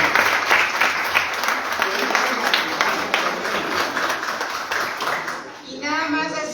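Audience at a school event applauds with steady, close hand clapping lasting several seconds before tapering off, with a little voice chatter toward the end.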